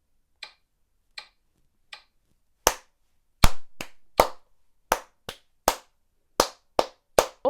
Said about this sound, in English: you're just adding a second clap in between